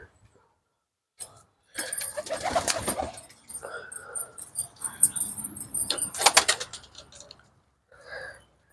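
Pigeons coo softly amid rustling and clattering as a cage is handled nearby, with a brief voice in between.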